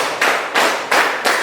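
Four crisp claps sound in a regular beat, near and fairly loud, with nothing else heard between them, during a classroom clapping exercise.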